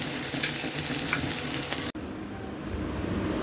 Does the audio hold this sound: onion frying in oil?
yes